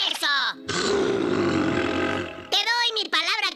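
A cartoon bear lets out a long, loud, growling roar at close range, preceded and followed by animated character voices speaking Spanish.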